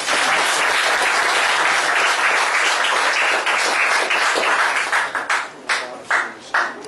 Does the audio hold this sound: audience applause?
yes